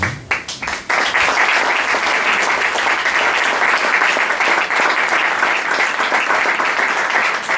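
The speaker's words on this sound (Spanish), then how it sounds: "esos aplausos son para él" Sustained audience applause at a book presentation fills the room loudly and steadily from start to finish, a dense wash of many hands clapping with no talk over it.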